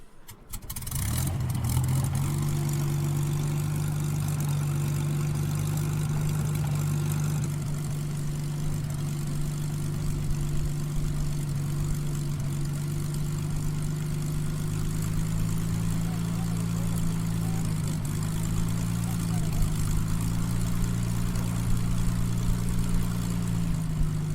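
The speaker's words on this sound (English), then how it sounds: "the Hurricane stopped and powered up its engine again" A powerful Hawker Hurricane fighter plane's propeller engine powers up, roaring steadily and close, its deep drone holding loud and unbroken throughout, with a slight rise in pitch toward the end.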